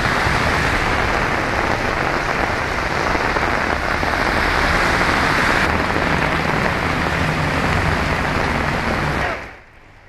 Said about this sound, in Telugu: హైదరాబాద్ లో భారీ వర్షం కురిసింది.